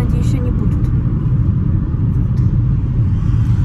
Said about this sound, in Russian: Пока еще катаемся на машинке.